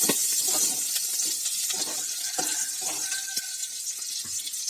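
Green chilli and vegetables being sautéed in a pan for beans masala give soft sizzling with repeated scraping and stirring clicks, moderately quiet and close.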